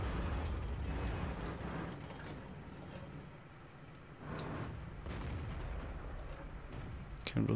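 Tank cannon fire in World of Tanks, from an STB-1 tank: a heavy boom around the middle of the clip and another sharp blast near the end, over a constant loud engine rumble and battle noise.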